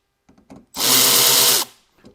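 Power driver spinning out screws from an older OBS Ford truck instrument cluster, one loud close whirring burst of just under a second, with faint clicks and handling noises before and after.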